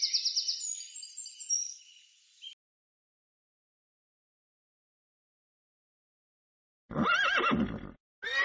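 A horse neighs loudly in a high, quavering whinny, followed after a long silence by a deeper, breathy snorting call and the start of another, each close and alone.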